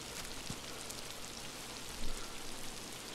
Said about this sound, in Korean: 이쪽으로 온 이후로는 계속 비가 와요